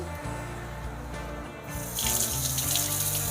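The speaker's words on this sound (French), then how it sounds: "Et là, je vais venir le laver à l'eau." Under a kitchen tap, a split leek is rinsed in running water for a stew of veal. The stream is steady and close, and it turns brighter and splashier as the leek moves into the flow.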